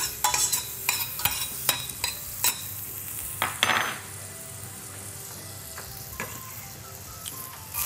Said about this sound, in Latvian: Sviesta tikai tik daudz, lai sīpols un ķiploks sautētos